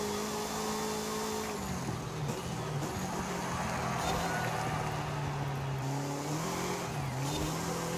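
A car of around 190 horsepower in a racing video game revs and accelerates with a rising and falling engine whine, steady and loud with tire noise throughout and no talk.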